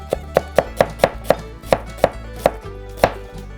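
A knife dices an onion on a cutting board in a quick, steady run of about ten sharp, close chops, each a crisp tap with no voices.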